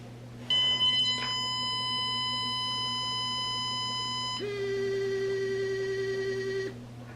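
K9 Mint bark collar sounding a longer warning beep with vibration, a sustained electronic tone that shifts to a different pitch partway through, close and loud, with no voices.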